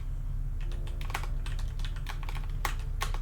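Fast typing on a computer keyboard during a modded Minecraft session, a rapid, irregular run of close key clicks over a steady low hum with no talking.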